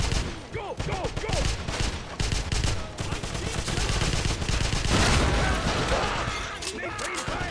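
Suppressing fire in the Xbox 360 game Wolfenstein: dense, overlapping rifle and machine-gun bursts rattle continuously amid a battle din, with voices shouting among the shots.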